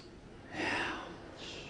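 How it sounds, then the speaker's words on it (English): A group at a live seminar takes a deep breath in through the nose and lets it out, a soft swelling rush of air, with a quieter second breath following. "breathe in deep through your nose. 3 big deep breaths"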